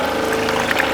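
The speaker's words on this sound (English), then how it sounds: "Don't worry, Fred gets water." Water pours steadily into a dog's bowl outdoors, a continuous close splashing rush with a faint tonal hum running under it.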